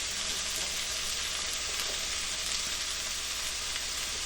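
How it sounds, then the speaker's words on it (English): Onions sautéing in a pan as the base for crawfish étouffée, giving a steady, even sizzle and crackle that holds close and constant throughout with no talking. "We're going to saute this down for at least about 5, maybe 7 minutes."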